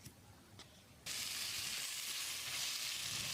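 Potato and carrot pieces hit hot oil in a pan for a potato curry, breaking into a sudden steady loud sizzle that continues evenly after a quieter start.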